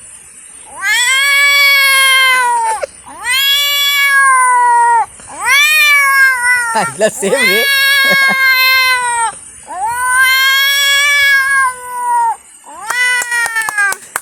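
A person imitates cats fighting with a run of long, wailing yowls and snarls, one after another, close and loud, with brief laughter.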